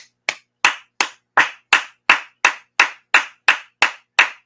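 A slow, even round of claps from a single pair of hands: about a dozen crisp, close smacks at a steady rhythm, each separated by silence, with no talking.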